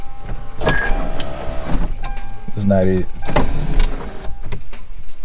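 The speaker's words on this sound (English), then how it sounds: "let's see if I can open this sunroof up" An electric sunroof motor whirs briefly in a 23-year-old car while a person talks inside, with small mechanical clicks and a low cabin rumble.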